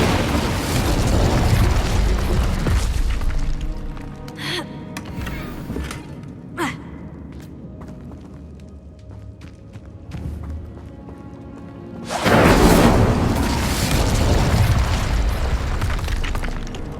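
An Incendio fire spell bursts in Hogwarts Legacy, a loud roaring whoosh of flame that swells, drops to quieter scattered sounds, then flares up again in a second sustained burst.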